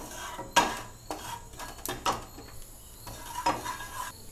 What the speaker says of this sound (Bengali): এবার আমরা বিউল ডালটা ভাজবো একটু।